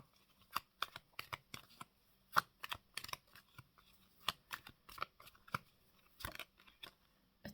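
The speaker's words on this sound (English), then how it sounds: "You saw me shuffle" A deck of cards is shuffled by hand in a quiet room, with repeated crisp riffling bursts and sharp snaps spaced unevenly over several seconds.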